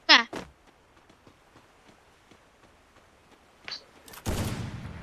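Gunfire in the Free Fire video game during a Clash Squad match: a sharp burst near the start, a few scattered shots, and a louder burst of firing toward the end, with faint taps in between.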